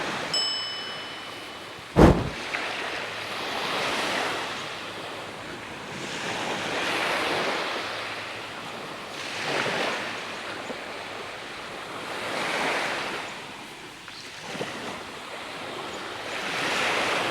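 Waves roll onto a deserted tropical island beach in slow, steady surges under wind noise, with one sharp clang near the start.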